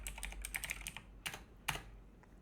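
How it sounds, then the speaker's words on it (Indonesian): Fast bursts of typing on a computer keyboard, crisp clicking keystrokes in quick irregular runs with short pauses, close and alone with no voices. "Kita ketik nama variabelnya dokumen,"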